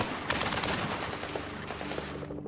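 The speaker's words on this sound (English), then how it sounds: "They exchange more fire." A shootout erupts with rapid bursts of gunfire, including automatic weapons, rattling densely for a couple of seconds before tapering into scattered, fading reports.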